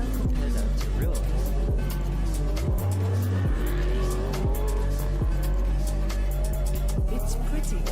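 A real car driving off-road holds a loud, continuous engine drone. The revs rise and fall through several gear changes, with a short dip in the middle and occasional tire and gravel noise.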